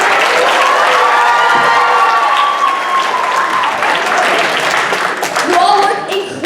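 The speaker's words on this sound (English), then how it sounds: "I would also like to give another round of applause to everyone who participated in the show." Loud, sustained applause and cheering from a high school show crowd, many hands clapping steadily with scattered shouts rising over it.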